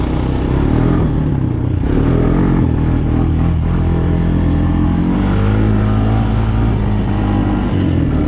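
A small ATV engine revs hard and steadily, loud and close, a constant buzzing roar with slight rises and dips in pitch and no voices over it.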